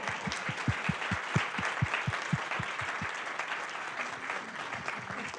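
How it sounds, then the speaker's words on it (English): Audience at a town council meeting claps steadily in a sustained, dense round of applause, with sharp individual claps standing out near the front and a faint murmur of voices underneath. "we'll clap first"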